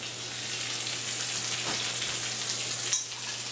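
Ribeye steak sizzling in a hot skillet just pulled from the oven, a loud, steady close-up frying hiss with a brief spatter near the end.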